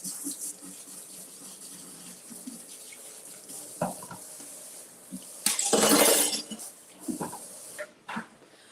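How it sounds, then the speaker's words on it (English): Blender parts rinsed under a running kitchen tap, with a rush of water in the middle and hard clatters and clinks of plastic or glass pieces knocking together in the sink, close by. "Mom said clean as you go, so I'm just going to rinse these off."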